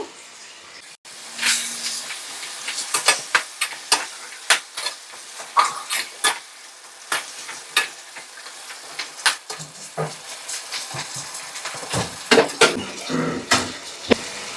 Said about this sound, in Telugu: నేను పెరుగు వేస్తున్నాను